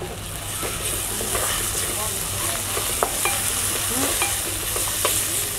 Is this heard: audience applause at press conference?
no